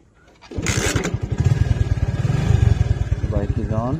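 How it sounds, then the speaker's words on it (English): A TVS motorcycle engine cranks and catches, then settles into a loud, close, steady putter of rapid idle pulses, with a voice talking over it near the end. "The bike is on."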